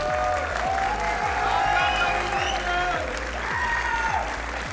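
A large crowd at the BLAST Bounty Malta 2026 grand final applauds and cheers loudly and continuously, with a voice over a loudspeaker carrying on above the noise.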